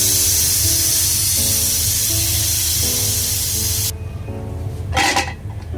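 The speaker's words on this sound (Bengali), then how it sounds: "এবার আমি 5টা সিটি দিয়ে নেব" A pressure cooker holding mutton curry vents steam through its whistle in a loud, continuous hiss that cuts off suddenly, followed by a short softer burst of sputtering release.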